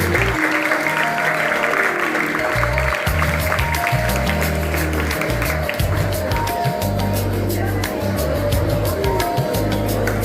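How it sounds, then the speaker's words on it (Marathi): Children clapping to encourage yoga performers at a school Yoga Day celebration, a steady dense patter of applause from a group that continues throughout, with a few raised voices mixed in. "टाळ्या वाजवून त्यांना प्रोत्साहन द्यायचे."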